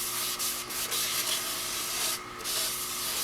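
Fine-grit sanding of a walnut live-edge platter spinning on a wood lathe, a continuous soft rushing hiss with slight swells and brief dips, heard alone.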